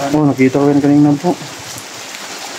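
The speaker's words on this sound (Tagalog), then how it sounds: "Malakas po yung ulan mga idol." Heavy rain falling on a mountainside mansion, a steady hiss that carries on under and after a man's brief spoken remark.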